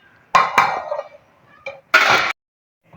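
A metal lid is set onto a cooking pot of rice, giving a few close, sharp clanks and a scraping clatter in short bursts separated by silence.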